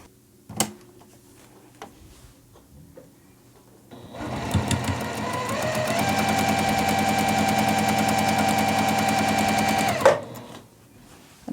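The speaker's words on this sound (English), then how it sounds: "We're just going to sew right down these seams and just a little bit to the inside of the lines." A sewing machine stitches quilt block seams in one steady rapid run of needle strokes lasting about six seconds, close and clear, after a few faint handling clicks.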